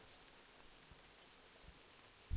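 Rain falls in World of Warcraft, a faint steady patter with a few soft drips, ending in a brief louder low thump.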